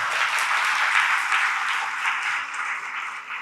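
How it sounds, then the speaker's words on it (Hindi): Loud, dense applause from a lecture audience fills the whole stretch, a steady wash of many hands clapping that eases slightly near the end. "बजाओ जोरदार ताली।"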